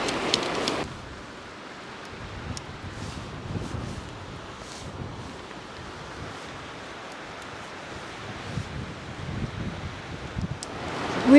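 Steady broadband wind roar buffeting outdoors on the Pine River Trail in Colorado's Weminuche Wilderness, with gusts swelling and easing and a rustle of movement, no voices.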